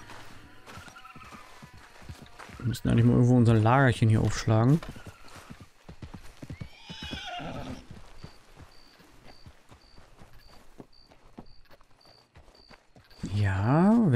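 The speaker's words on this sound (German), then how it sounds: "So, Pferdchen, trab an hier." A horse in the video game Red Dead Redemption 2 whinnies loudly in two close bursts, with soft hoof clops under someone talking in German.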